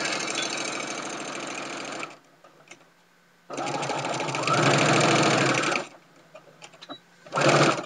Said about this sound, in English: I'm doing a little back stitch there. And I'm going to sew a little bit on this corner